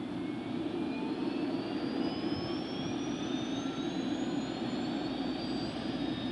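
An OH-58A Kiowa helicopter's turbine engine spools up during start with the rotor turning, a loud steady roar under a rising whine that climbs in pitch throughout, with no talk.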